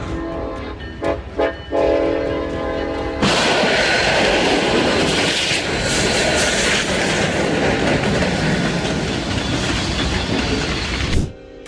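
A train thunders past close by on railroad tracks in West Texas, its horn sounding first with a few short blasts before a loud, continuous rumble and clatter of cars that lasts several seconds and then cuts off abruptly.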